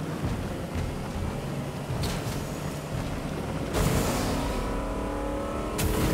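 A motorboat engine in Fortnite drones steadily throughout, a loud continuous motor hum that swells into brief surges near the middle and end.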